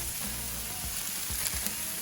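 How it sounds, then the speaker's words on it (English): Steaks coated in mayonnaise sizzle steadily on a hot Blackstone flat-top griddle, a close, continuous hiss and crackle with a few soft low thumps, and no talking. "You can see how that it's just nice and sizzling"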